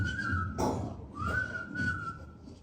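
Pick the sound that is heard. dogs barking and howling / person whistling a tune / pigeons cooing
person whistling a tune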